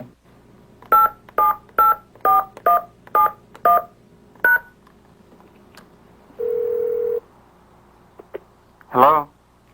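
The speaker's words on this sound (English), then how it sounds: "Can I try to reach him on his cellular phone?" A cellular phone being dialed, with eight evenly spaced keypad tones followed by a longer steady tone and a short burst of sound near the end.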